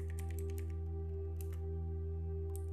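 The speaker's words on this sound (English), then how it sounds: "Now type in this command." A few short bursts of computer keyboard typing while entering a terminal command in Kali Linux, clicking over a steady electrical hum.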